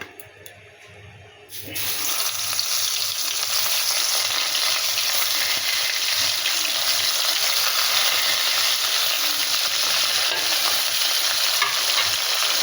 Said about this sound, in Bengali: কড়াই মাছ ভাজবো